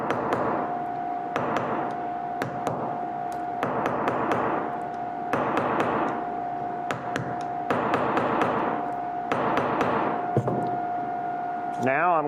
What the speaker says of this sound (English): I'm going to tap that a little bit and then go ahead and rivet it